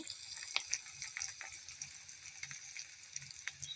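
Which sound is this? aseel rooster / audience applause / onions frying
onions frying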